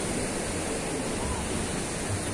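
Sea waves at a beach with the Sierra Madre in view, a steady broadband wash of surf noise, soft and continuous with no distinct breaks.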